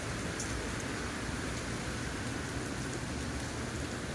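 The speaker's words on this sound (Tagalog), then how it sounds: "Maulan sa labas, maulan din sa loob." Heavy rain falling during a typhoon, a steady dense hiss of drops pouring on surfaces without pause, moderately loud and even throughout with no speech.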